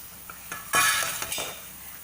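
Thick guava halwa stirred with a long spatula in a pan, with a few light taps and then a burst of scraping and sizzle lasting under a second before fading, close and alone.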